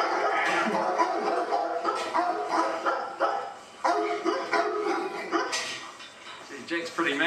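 Guard dogs at a car workshop barking repeatedly and aggressively, near and loud, with whimpers and yips mixed in and people talking throughout.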